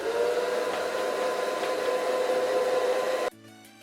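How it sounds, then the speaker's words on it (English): A hair dryer on its cool setting blows steadily and loud close by, drying foundation on a wig's lace, a constant whooshing hum with a faint whine before it cuts off abruptly near the end. "I'm going to go in with my dryer and put it on cool and just dry the foundation."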